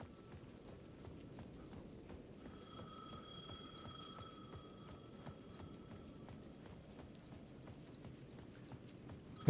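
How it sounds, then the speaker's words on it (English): A payphone ringing in Alan Wake 2, a faint electronic ring sounding in the middle of the stretch under steady rhythmic clopping footsteps and background ambience. "The phone is ringing."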